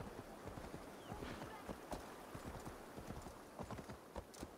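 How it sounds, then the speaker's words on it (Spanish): Horse hooves clip-clopping at a quick pace in Assassin's Creed Valhalla, a steady rhythmic trot of hoofbeats kept low in the mix with faint game ambience. "Porque voy montada en un caballo."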